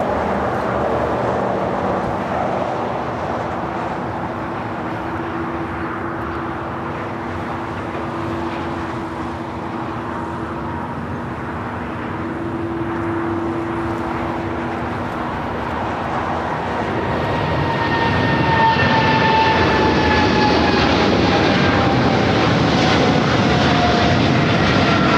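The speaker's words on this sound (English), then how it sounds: "China Airlines Cargo 5382 taking off to Miami, Florida on the 777 freighter" A China Airlines Cargo Boeing 777 freighter takes off from runway 25 Left at LAX, its jet engines roaring steadily with a whining tone before building into a louder, rising thunder as it powers down the runway nearby.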